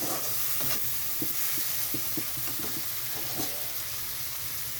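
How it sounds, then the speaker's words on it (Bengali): Small splash of water poured into spice masala sizzling in a pan for a fish curry with pointed gourd, giving a steady close frying hiss with intermittent stirring clatters. "তো এখানে আমি খুব অল্প পরিমাণে জল দিয়ে দেবো।"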